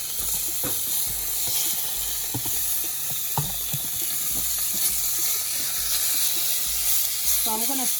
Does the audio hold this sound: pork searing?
yes